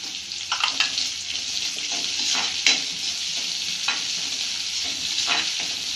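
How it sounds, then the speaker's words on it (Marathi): Finely chopped onion and green chillies sizzle in a pan for samosa filling, a continuous frying hiss broken by several stirring scrapes and crackling bursts, close up and without talk. "त्यानंतर यामध्ये आपण कांदा बारीक कापलेला कांदा"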